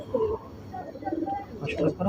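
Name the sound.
pigeons cooing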